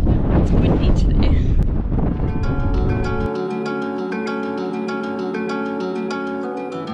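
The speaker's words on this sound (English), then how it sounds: "It's windy today." Wind gusts at an outdoor van meetup surrounded by parked vans, roaring loudly for the first few seconds before dropping away under a sustained tonal background.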